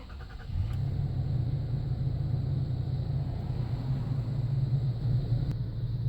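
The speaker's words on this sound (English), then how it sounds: "to go ahead and start up the vehicle, you'll place your foot on the brake and then tap the start button" A 2016 Toyota Tacoma TRD Off Road engine starts with a brief crank, then settles into a steady, low idle rumble that holds evenly, close by.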